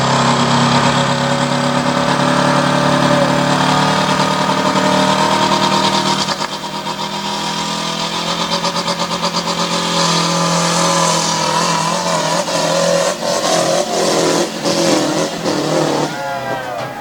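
A diesel drag racing vehicle at a Sanford, North Carolina event roars through a full pass, engine loud and sustained with rising pitch, then easing off partway through as it fades out.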